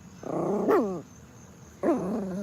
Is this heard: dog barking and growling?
yes